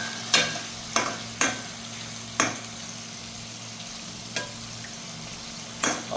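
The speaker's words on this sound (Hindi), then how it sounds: "तो ये चिकन को हम अभी अच्छे से फ्राई कर लेंगे" Chicken pieces frying in a pan, a steady background sizzle broken by a handful of sharp utensil scrapes and knocks at uneven intervals, close and moderately loud with no talking.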